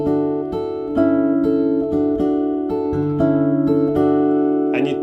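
An acoustic guitar tuned to open D plays a phrase from an acoustic medley: a clear run of plucked notes in a steady rhythm, close and alone, with ringing overtones.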